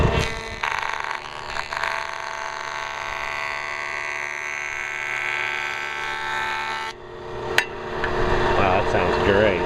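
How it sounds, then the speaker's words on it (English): Rockwell 4-inch jointer with freshly sharpened knives cutting wood, a steady close machine whir with a slight shift as the board passes, then a sharp knock and a brief rattle as the cut ends. "I'm going to test those blades out after I sharpened them. I'm going to run about a 32nd inch off this just to see how it performs."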